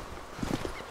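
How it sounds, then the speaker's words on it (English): Footsteps in the Arma 2 military video game, a few quick hollow clopping steps from below, brief and moderately loud over a low background hum. "Footsteps under us."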